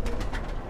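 A female pigeon coos in a short soft series of low, rounded pulses, close by.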